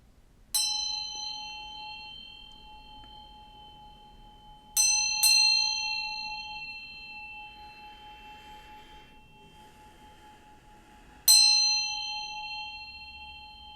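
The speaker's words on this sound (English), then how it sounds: "I'm gonna ring this bell to bring in some good vibes" A hand bell rung in a quiet room, four bright metallic strikes in two clusters, each leaving a long shimmering tonal ring that slowly fades, no talking.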